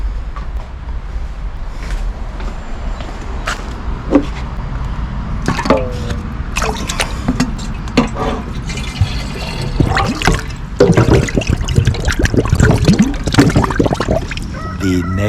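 A rusty Moto Compo fuel tank is dipped back into a citric acid bath, with continuous sloshing and splashing of liquid and scattered clunks of metal against the container, loud and close with no talk.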